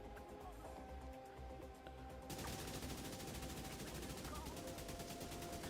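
An AK assault rifle firing in The Division 2, a long unbroken automatic burst with a fast, even rate of fire that starts abruptly after a short quiet stretch and stays at a fairly low level.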